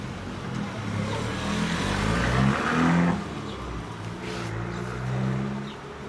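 Kawasaki ZZR1400 Ninja ZX-14R sport motorcycle fitted with a Beet Nassert exhaust, its engine revving up and settling back in loud, sustained swells, heard close with no talk over it.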